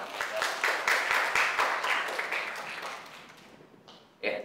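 A classroom audience claps together in a dense burst of applause that holds for a few seconds, then thins out and fades, ending with a couple of isolated sounds.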